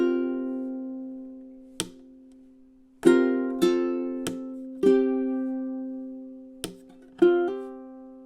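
A ukulele plays a song with percussive thumb taps: sharp struck chords ring out and decay, with taps falling in an uneven rhythm.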